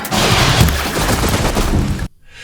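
Machines in the video game Horizon Zero Dawn fire lasers in a dense, loud barrage of rapid crackling blasts that runs for about two seconds, then cuts off abruptly into near silence.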